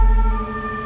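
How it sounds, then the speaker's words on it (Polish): An ambulance siren holds a steady, loud wailing tone that rings clearly and alone for a brief moment. "Słyszy pan? Już karetka jedzie."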